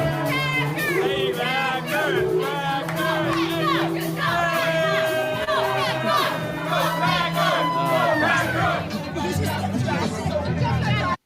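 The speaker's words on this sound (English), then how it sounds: "People cheer for you." A loud, excited crowd cheers and shouts continuously, with many overlapping voices and whoops packed close together and no pause throughout.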